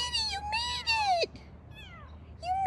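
A kitten that had been stuck in a tree in Huatulco, Mexico, lets out several clear, rising-and-falling meows close by, with short quiet gaps between the cries.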